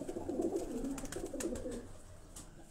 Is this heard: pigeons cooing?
yes